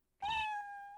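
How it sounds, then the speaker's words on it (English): A single cat meow in the video game Gyakuten Live, short, clear and close, rising then holding a steady tone for under a second. "Meow. Yeah, hey there, Hanpin."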